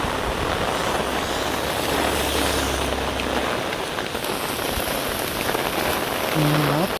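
Heavy monsoon rain pours down steadily near a Shiva temple at Ashagad, Dahanu, a dense, loud, continuous hiss of drops hitting surfaces throughout, with a low engine-like hum in the background for a while.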